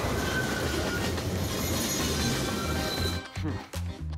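An animated train rushes past on the rails in a steady loud rumble with rapid clickety-clack, then pulls away to leave rhythmic wheel clacks fading out.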